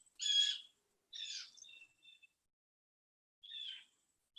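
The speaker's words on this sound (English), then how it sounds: "Sorry about the loud birds over here." Loud birds call outdoors near a summer camp in California, with three bursts of harsh, high-pitched calls separated by short silent gaps and no talk underneath.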